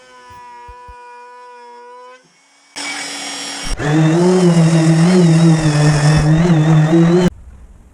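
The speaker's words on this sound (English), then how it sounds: "I'm going to do a little more sanding with orbital sander." An orbital sander runs on a maple butcher block kitchen island, whining loudly and steadily for about four seconds before cutting off, after a brief quieter hum and a short burst of noise.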